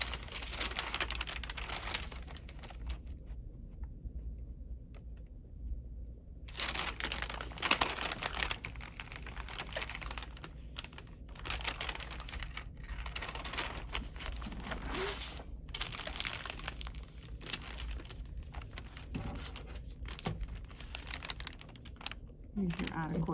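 Freezer paper crinkles and rustles as it is folded back along a template for foundation paper piecing, soft crackling handling close by, with someone talking over much of it.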